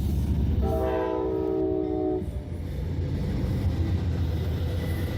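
A southbound Amtrak Coast Starlight, shortened to five coaches, passes near Springfield, sounding one clear horn blast early on before its steady rumble carries on alone.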